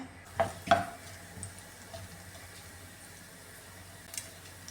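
Grated coconut hitting hot coconut oil in a pan for koorka mezhukkupuratti, with a couple of sharp clatters at the start followed by a low, steady sizzle and a faint clink near the end.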